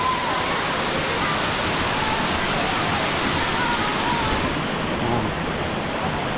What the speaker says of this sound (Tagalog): Ayun. Falls.